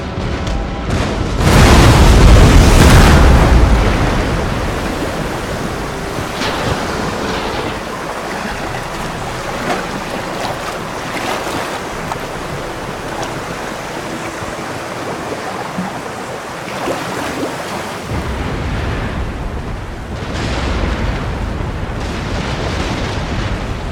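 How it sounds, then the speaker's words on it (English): Naval cannon fire in the Napoleonic-era strategy game Total War: Napoleon, one heavy booming broadside near the start followed by a rolling, washing sea-battle rumble with fainter distant thuds. "Right, first bit of returning fire."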